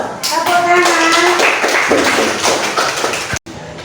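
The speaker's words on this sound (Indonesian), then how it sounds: "Tepuk tangan." A classroom of students claps together in a quick burst of dense, close hand claps, with voices mixed in and a sharp cutoff just before the end.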